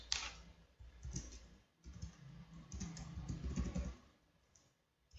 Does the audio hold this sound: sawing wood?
no